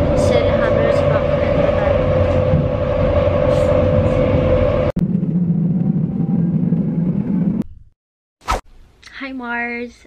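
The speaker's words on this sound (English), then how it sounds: "So I am inside now in the train." A steady low rumble and hum of a moving train in Germany from inside a carriage, followed by a quieter stretch, a brief clunk, and a short tonal chime.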